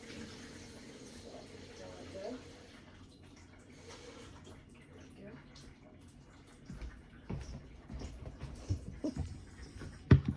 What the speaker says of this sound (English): I think I have hot water now. Yeah, I definitely do. I'm going to turn the water pressure down.